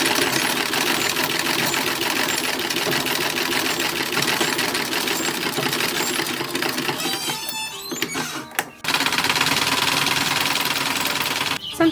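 A sewing machine stitches gathered 1920s dress fabric with a loud, steady close-up whirring hum and fast rapid needle clatter, briefly pausing and restarting near the end.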